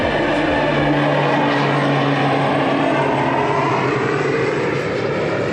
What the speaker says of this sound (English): There's like a plane right there.